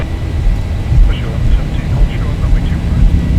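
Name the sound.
Boeing 737-800 jet engines spooling to takeoff thrust, X-Plane 12 video game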